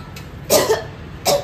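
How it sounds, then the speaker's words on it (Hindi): Two or three short, harsh coughs close by, one pair rapid and then another single bark-like cough after a brief pause. "कुत्ते वाली खांसी कर रही यार"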